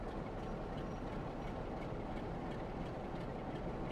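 A Class 47 diesel locomotive idles on the West Coast Main Line over Shap in Train Sim World, giving a steady, dense low rumble with continuous mechanical clatter, unchanging throughout.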